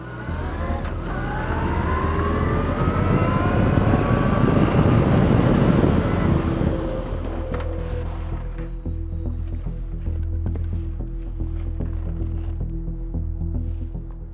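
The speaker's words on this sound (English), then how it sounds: "Let me show you one where I snap on the front brake and you'll see what we've got to avoid." A motorcycle braking hard as the rider snaps on the front brake with ABS: loud, broadband road and engine roar for about six seconds that abruptly drops off, leaving a lower steady engine hum and whine.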